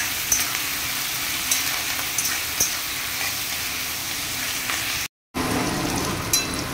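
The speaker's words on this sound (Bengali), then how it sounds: "এখানে পেঁয়াজ কলি আলু ভাজা বসানো হয়েছে" Onion flowers and potato fry in plenty of hot oil, making a continuous, close crackling sizzle that cuts out briefly before resuming.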